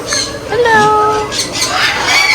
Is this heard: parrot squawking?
yes